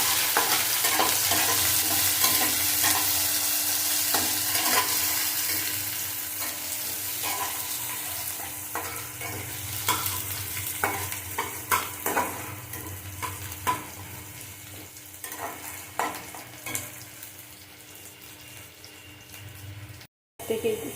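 Onion and potatoes frying together in a pan, a continuous oily sizzle under repeated scraping and clattering of a stirring spatula, nearby and fairly loud, with a soft background voice and a short break near the end.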